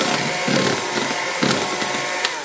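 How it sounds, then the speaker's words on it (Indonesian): An electric kitchen mixer runs at low speed, beating a salted batter for a steamed milk sponge cake. It gives a steady motor whir with a gritty, scraping texture that swells and eases in rhythm, close up and without talk. "Terus ini saya mixer sebentar aja dengan speed rendah."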